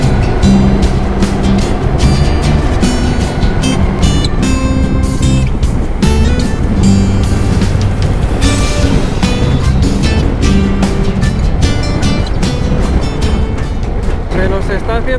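A motorcycle ridden along a road at night in Namibia: continuous loud engine and wind roar with rhythmic rumbling throughout, and a voice talking over it.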